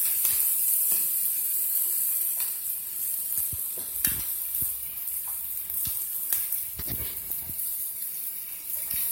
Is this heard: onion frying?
yes